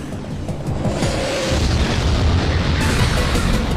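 Loud, sustained explosion from a GameCube video game, a deep booming rumble that fills the whole clip with dense broadband noise and no speech.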